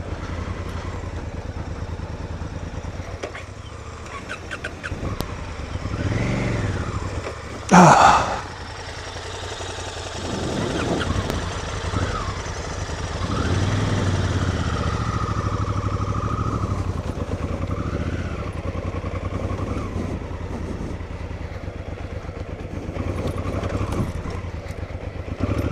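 Motorcycle engine running and idling on an icy winter ride across Salisbury Plain, a steady low drone throughout with one brief louder burst partway in and faint breathy voice sounds over it.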